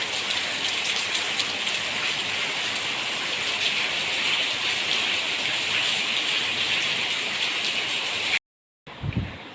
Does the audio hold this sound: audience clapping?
no